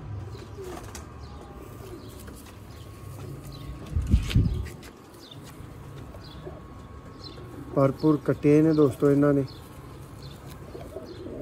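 Pigeons coo near a golden male pigeon, with a rolling series of coos late on and a flap or bump midway, while someone talks over much of it.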